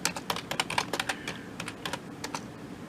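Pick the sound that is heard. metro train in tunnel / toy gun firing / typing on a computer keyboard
typing on a computer keyboard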